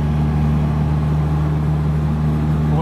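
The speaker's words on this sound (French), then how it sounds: "Là, j'entends bien mon turbo chargé" A Nissan S14 with a turbocharged engine runs steadily at a constant idle-like speed on a race circuit, a strong low hum with a droning tone, close and continuous throughout.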